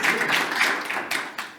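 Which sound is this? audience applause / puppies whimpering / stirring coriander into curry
audience applause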